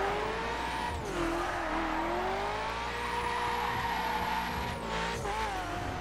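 Cars in the racing game The Crew sliding and skidding on a snowy, icy road, with sustained engine drone, swooping tire squeals and a couple of brief impacts, no talk.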